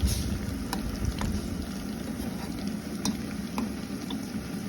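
Raw prawns fry in a pan on the stove, giving a steady close sizzle with a few light clinks of a spatula stirring them.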